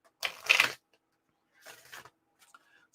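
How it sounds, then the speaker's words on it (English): A deck of tarot cards is shuffled in two short riffling bursts, a crisp close flutter followed by a quieter second shuffle, with silence in between. "one more shuffle, and we'll pull our second card"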